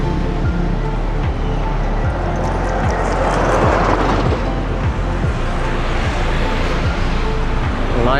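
Road traffic at the Buhangin underpass closure in Davao City, where the road is under repair: a steady, loud roar of vehicles with repeated passes sweeping by, filling the whole clip.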